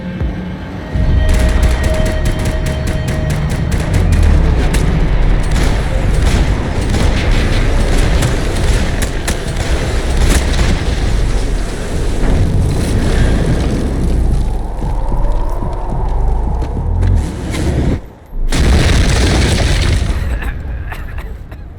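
Gunfire in the video game Max Payne 3: loud, sustained volleys of rapid shots and heavy booms fill the scene almost without pause, with shouting voices mixed in and a brief drop near the end.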